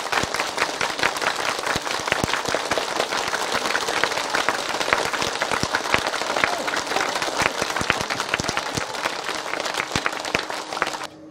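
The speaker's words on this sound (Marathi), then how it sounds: "जोराने टाळ्या तुम्ही टाळी वाजवा विठ्ठला विठ्ठला" Loud, continuous hand clapping from an audience at a kirtan during a devotional Harinam Saptah gathering, dense and steady throughout with no pauses.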